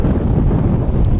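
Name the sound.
strong wind on the microphone at Wellington Airport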